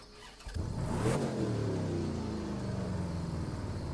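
A Cadillac Eldorado in The Crew 2 video game fires up and revs, a loud close engine roar that rises sharply and then settles into a sustained throaty drone.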